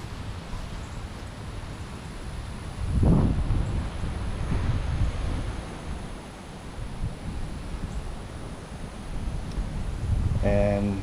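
Strong wind during Hurricane Ida in Livingston Parish, Louisiana, roars and buffets the microphone as a steady broadband rush, with a heavier gust swelling midway and faint rustling beneath.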